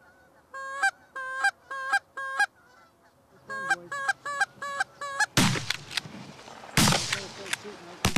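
Canada geese honk in repeated bursts, first clear and isolated, then denser and mixed with sharp loud cracks and noisy bursts toward the end, with a voice briefly heard.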